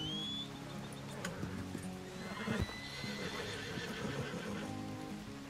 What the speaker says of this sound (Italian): Troppo agitato questo cavallo.